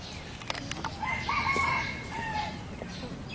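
A rooster crows once at mid-distance, a former fighting cock released at a Thai temple, with its drawn-out call rising over faint outdoor background noise and a few soft clucks.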